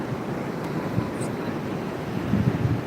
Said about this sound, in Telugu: ఈ అంశలు దివి ఒక్కటేనండి ఇంత బాగా ఇంత బాగా పెద్ద పెద్ద అలలు వచ్చేది